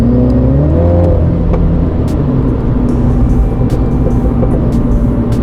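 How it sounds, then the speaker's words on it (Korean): A 2019 Mini Cooper JCW hatchback engine roars under kickdown acceleration near 100 km/h, its variable exhaust giving sharp crackling pops scattered over the loud, steady drone. "킥다운이 되면서 따닥따닥 하는 소리, 그 팝콘 사운드까지 들리고요"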